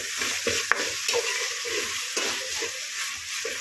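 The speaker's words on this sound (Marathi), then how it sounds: "आता आपण व्यवस्थित अद्रक लसूण पेस्ट त्या भाजीमध्ये मिक्स करून ठेवूया." Ginger garlic paste is stirred into vegetables frying in a pan, a spoon scraping and clicking in quick strokes over a steady sizzle, close and fairly quiet.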